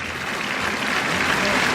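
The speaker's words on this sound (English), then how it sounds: "It's a good round of applause on his way back towards the dressing room." A cricket crowd at England v Sri Lanka one-day international applauds steadily as Bairstow walks off, a dense, continuous wash of clapping from a large stadium audience.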